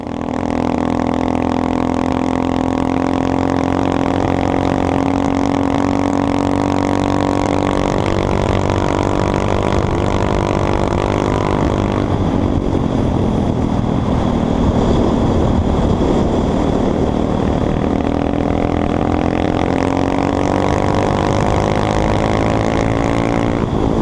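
Honda Grom motorcycle fitted with a Finbro 183cc big bore kit being ridden, its steady droning engine note rising and falling under heavy, constant wind buffeting on the microphone, no talking.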